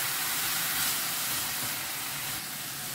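Onions fry in a pan for a Goan stuffed crab recheado, producing a continuous, even hiss and sizzle, close and steady throughout.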